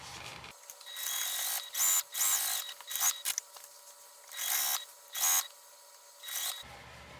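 A sewing machine stitches down the bottom and sides of a fabric bag with lining, running in several bursts of steady mechanical whirring, separated by short pauses, close up with no talk.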